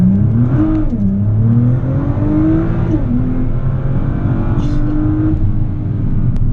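A 2009 Nissan GT-R R35 accelerates hard from first gear, its engine note rising loud and close as it winds up through the revs, with a brief dip where the gearbox shifts before the pull resumes.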